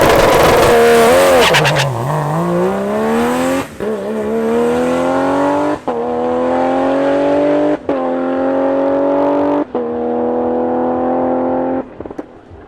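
A Barra-swapped GT350 Mustang making about 1000whp launches down a drag strip, its engine roaring loud and close as it climbs through gears with quick shifts every two seconds or so.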